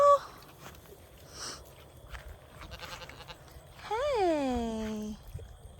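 A farm sheep bleats once up close, a long wavering cry after a short call at the start, with quiet rustling and a person's soft voice nearby.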